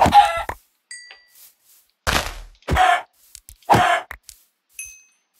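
A few separate chicken clucks and squawks from chickens in a video game, loud and close, broken by short silences and faint high chiming tones.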